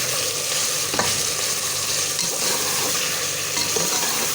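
Sliced onions sizzling in hot oil with red chili powder for chicken korma, a loud continuous fry close up with scraping stirs running through it.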